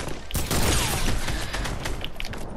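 Fortnite gunfire as a dense, continuous fusillade of rapid shots, loud and close, filling the whole short moment with overlapping cracks and no pause.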